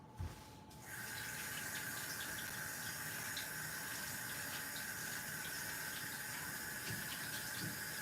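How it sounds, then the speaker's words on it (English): A tap runs water for hand washing, a steady close rushing stream that starts after a brief quiet moment and continues alone without voices. "I need to wash my hands."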